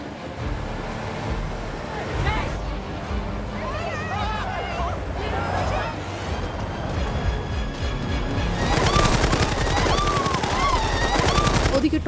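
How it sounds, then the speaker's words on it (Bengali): Gunfire erupts in an action film scene near a plane, bursts of shots building to a loud, dense volley near the end, mixed with music and wind, under a narrator's voice. "দূর থেকে টনি যেই না গুলির আওয়াজ শুনতে পাই"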